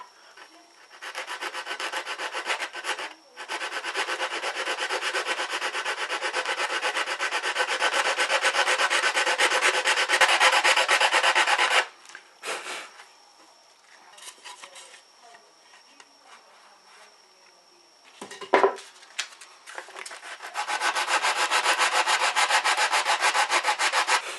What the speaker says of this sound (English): I'm going to use this old piece of curtain pole on with a bit of sandpaper wrapped around it, because it matches exactly the shape of my Taurus skirting board